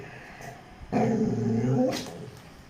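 A pet dog lets out an angry, low growl up close, a sustained rumble of about a second that rises and then trails off into a short whine.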